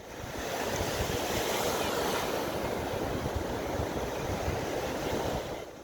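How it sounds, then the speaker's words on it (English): Shallow ocean waves of the Bay of Bengal wash steadily around walking feet, a close, continuous surging hiss that swells in and fades at the end, with no talking. "walking through the shallow waves of the Bay of Bengal"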